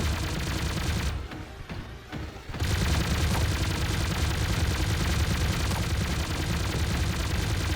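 Gunfire in the Sausage Man battle-royale shooter: dense, continuous bursts of rapid shots, loud and close, with a brief drop in the middle before the firing resumes at full intensity.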